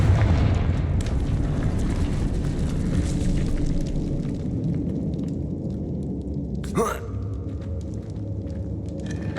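A Confringo fire-spell blast in Hogwarts Legacy, heard as a deep, rumbling boom that rolls on for several seconds and then fades, with a sharp swish near the end.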